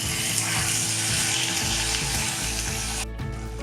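Tomatoes fry in a hot pan, giving a loud, steady, close sizzle that hisses and crackles throughout, easing slightly near the end, with no talking.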